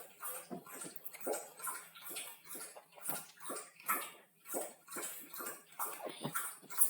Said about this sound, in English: And now Bob's having a drink.